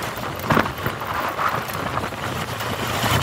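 Strong wind buffets the microphone on a hot, sunny day along a road in Calaca, Batangas, a steady broadband roar with gusty surges throughout and no voices.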